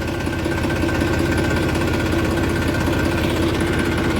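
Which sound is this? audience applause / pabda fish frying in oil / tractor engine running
tractor engine running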